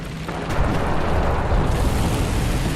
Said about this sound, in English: Put a shot through there, and kill his driver and gunner.